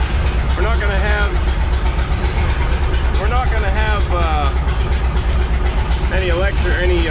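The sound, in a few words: 1957 Autocar truck engine running after first start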